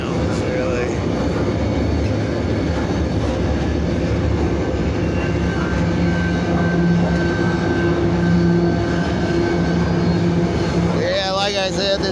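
A passenger train riding on rails through woods, heard from inside as a steady low rumble and rolling rail noise, with a faint tonal whine and squeal near the end.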